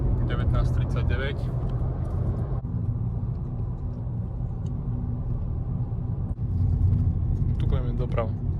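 Interior of a car driving along a coastal road between Primošten, Trogir, Split and Omiš, a steady low road rumble and engine drone throughout, with people talking over it.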